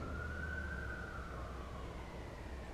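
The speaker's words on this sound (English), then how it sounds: "I don't know if you don't hear them sirens or not" A distant fire department siren wails in a long, slowly falling tone over steady road rumble, faint and far off.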